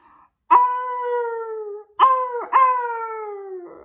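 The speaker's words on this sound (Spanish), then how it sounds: "El perro ladra y ladra," A dog howls in long drawn-out cries, three sustained wails with a short gap between the last two, close and clear with no talk.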